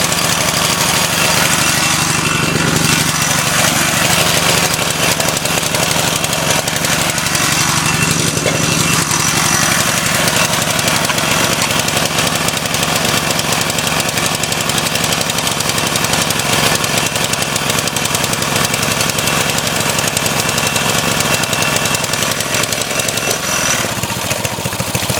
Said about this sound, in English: now she's hot enough to idle